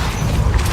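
Hogwarts Legacy's Depulso spell releases a brief, heavy blast, a deep booming thud with a short crashing rumble.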